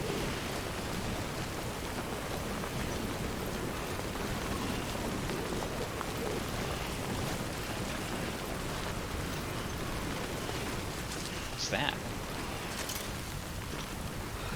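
Timefall rain from the video game Death Stranding pours steadily as an even, dense hiss of falling rain that lasts the whole time, with no voice.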